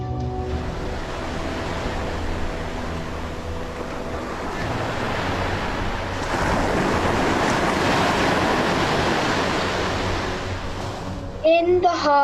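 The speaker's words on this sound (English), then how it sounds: "In the heart of the Atlantic Ocean, on a clear day with calm seas, a single expedition boat bobs along." Ocean waves in an audio drama, set in the Atlantic on a calm day with a boat bobbing, give a continuous wash of surf that swells slightly midway before a voice starts at the very end.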